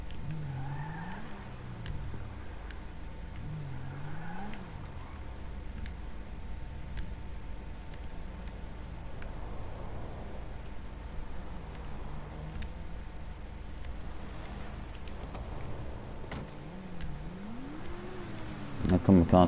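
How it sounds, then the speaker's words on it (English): Video game car engine revving up and rising in pitch as the gas is hit, with tyre squeal and skidding, under someone talking. "Drive it out, hit the gas and drive it out."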